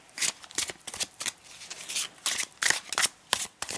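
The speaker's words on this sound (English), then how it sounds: "let's shuffle this up. Now let's see how well this shuffles" Tarot cards being shuffled repeatedly, a rapid papery riffle and flutter in quick bursts, close and crisp with no talking.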